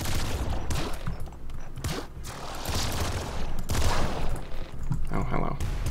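Rapid bursts of gunfire from the video game Nuclear Throne, dense overlapping shots in volleys with brief gaps, loud and continuous throughout with no talking.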